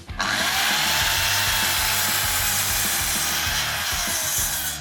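A GEKO sliding mitre saw, 1700 W or 2000 W with a 210 or 255 mm blade, cuts through wood with a loud, continuous whining buzz that holds steady for several seconds before easing off.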